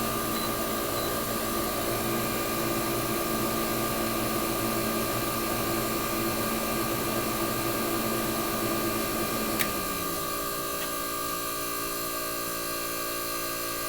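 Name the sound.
GE air conditioner compressor running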